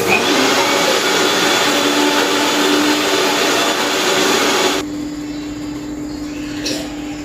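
A mixer grinder whirs loudly and steadily while grinding green chillies, garlic and sesame seeds into a fine paste, then the motor drops to a quieter, lower hum for the last couple of seconds.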